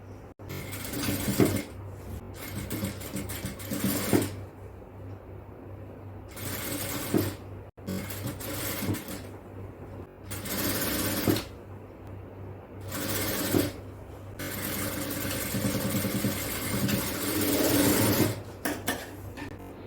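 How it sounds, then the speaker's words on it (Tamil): Sewing machine stitching a neck cross piece onto a child's frock, bursts of fast whirring stitching separated by short pauses and handling noises, close and moderately loud, no talking. "அடுத்தது கழுத்து கிராஸ் பீஸ் வச்சு தைக்கலாம்."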